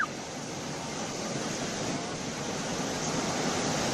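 Floodwater rushes steadily past the spot where a bridge was washed away, a broad continuous roar of moving water that holds even and unbroken throughout, with no voices.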